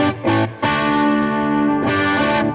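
Electric guitar on an Epiphone 59 Les Paul, bright and twangy yet full-bodied, played as sustained ringing chords with a short gap and a fresh strum midway, close and loud with no talking.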